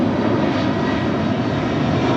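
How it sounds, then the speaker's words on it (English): A Boeing 747-400 freighter departs Los Angeles International Airport, its heavy engines giving a dense, steady, loud roar with no break. "That is Coletta Air 9905 departing to Fairfield on the 747-400 freighter."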